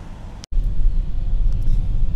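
A car rolls along a road on a trip from Moscow to Minsk, a steady low rumble of tyres and engine heard from inside, briefly cut by a short dropout, continuous and moderately loud.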